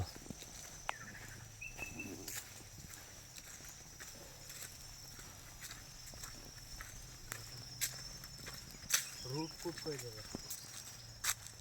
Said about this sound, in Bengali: দিনের বেলায় ঝিঝি পোকার মতো শব্দ।